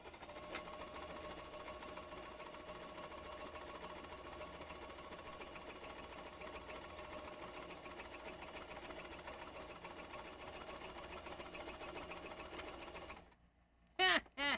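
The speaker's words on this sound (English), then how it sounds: "Let's go ahead and sew that to this one" A sewing machine runs steadily for about thirteen seconds, stitching craft patches together with a continuous mechanical whir, then stops abruptly near the end, leaving a few brief bumps.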